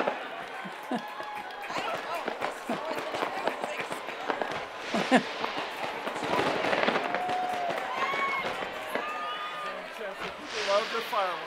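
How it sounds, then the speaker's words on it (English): Fireworks crackle and pop through a crowded outdoor graduation celebration at UW–Madison, with dense bursts running the whole time under steady crowd chatter and nearby voices. "Love the fireworks."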